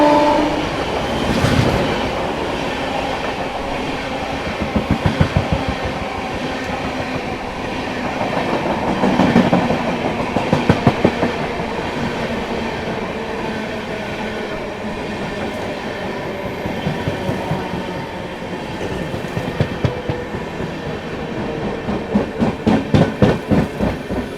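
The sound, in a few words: Rewa–Anand Vihar express train running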